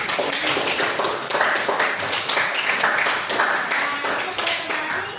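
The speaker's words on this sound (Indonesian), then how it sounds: "Tepuk tangannya mana?" A classroom group applauds after a presentation, with brisk, uneven hand claps from many pupils filling the room, some voices mixed in, and the applause tapering slightly at the end.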